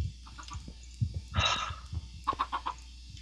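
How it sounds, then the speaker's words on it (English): Chickens in the video game Minecraft, including a baby chicken, give a few short clucks and squawks in irregular bursts over a low background, with no talk. "there's a baby chicken that I'm telling to grow up so I can kill it and eat it"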